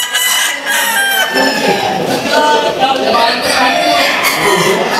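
Gamefowl roosters crow loudly and close, their calls overlapping with steady clucking from other birds around them, a busy, continuous flock chorus.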